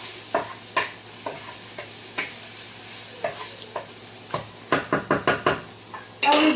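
Onions browning in a frying pan for homemade lasagna, a steady quiet sizzle under a series of sharp utensil knocks and scrapes against the pan, coming in an irregular rhythm, quickening toward the end.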